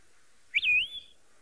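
Yellow-throated longclaw call played back, a single clear rising-then-sustained whistle note lasting under half a second against near silence.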